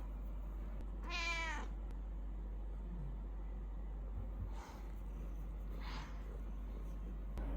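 A cat lets out one clear, drawn-out meow nearby, followed by two fainter short mews against a steady low hum.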